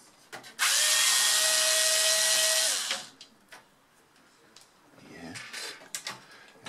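A Torx T10 screw is driven out of a Power Mac G3 Blue & White case, first a loud, steady powered whir of about two seconds, then quieter clicks, clatters and handling noises nearby.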